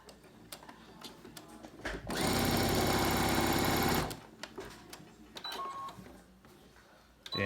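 A sewing machine stitches around the edge of a reusable fabric face mask in one steady, rapid two-second run, with quiet clicks and handling noises before and after.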